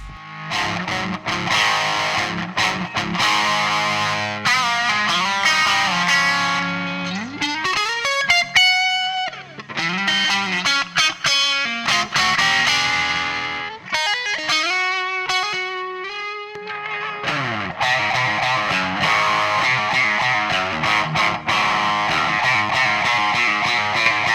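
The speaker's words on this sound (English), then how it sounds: "this distortion pedal that I have, the MXR 78, is meant as always on amp distortion" An electric guitar plays through an MXR 78 distortion pedal, with sustained, gritty notes, pitch bends and sliding phrases that keep the sound loud and continuous.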